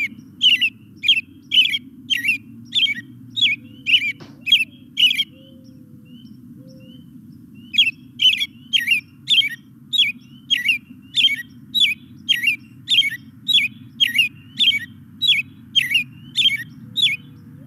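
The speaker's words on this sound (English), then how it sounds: "Some frogs calling in the background." Frogs call in the background of a bird song recording, forming a continuous low, pulsing chorus beneath series of sharp, repeated bird notes that pause briefly midway.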